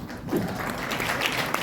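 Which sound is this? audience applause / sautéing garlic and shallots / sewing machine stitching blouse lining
audience applause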